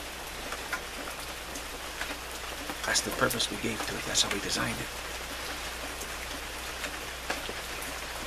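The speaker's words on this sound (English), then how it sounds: "Wonderful rain here, right? Wonderful rain." Steady rain falls and patters on surfaces in a continuous soft hiss, with a few louder drips, while someone speaks over it.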